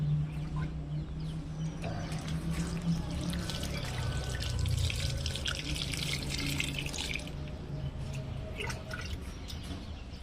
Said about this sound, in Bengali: এবার আমরা এটিকে পুরো ভর্তি করে আমরা জল দিয়ে দেবো